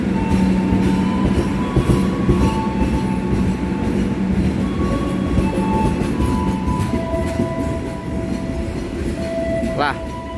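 A train with a KPJR Duomatic and a locomotive at Cikampek station rumbles close by with a steady, loud roll, along with squealing metal tones, a short horn blast near the end, and voices talking.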